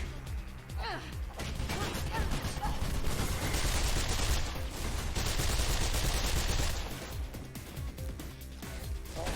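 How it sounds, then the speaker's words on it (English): Rapid gunfire in the video game Mirror's Edge as servers are shot, with dense overlapping bursts and crashing impacts running nearly continuously and loud, with a voice partly heard under the shooting. "Now you shoot the servers."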